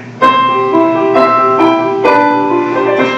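A nine-year-old child with two years of lessons plays the piano, a few firm chordal strikes about a second apart, each ringing out richly, close and alone.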